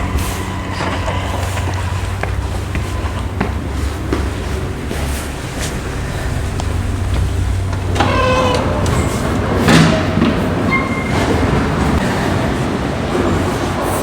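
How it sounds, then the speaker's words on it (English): Train ride on Calgary's red line on a snowy day: a loud, steady rumble of the rail car in motion, with squeals and rattling bursts midway and a brief air-brake hiss near the end, faint voices underneath. "Now we take the train."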